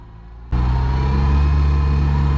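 A boat motor is suddenly throttled up to pull on a set anchor, jumping from a low idle to a loud, steady, sustained engine roar that holds to the end.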